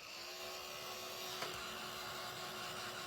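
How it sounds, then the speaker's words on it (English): A heat tool blows steadily to dry paint on a rustic Christmas tree craft made from primitive hinges, a constant low whooshing hum close by with a faint click midway and no talking. "Hit this with the heat tool. We're going to dry it up."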